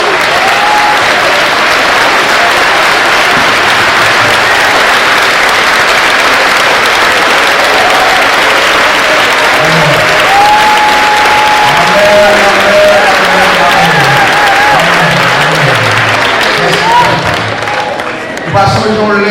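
A church congregation at a Sunday worship service of the Evangelical Church of Haiti in Vertières applauds continuously and loudly throughout, a dense crowd clapping with some voices mixed in.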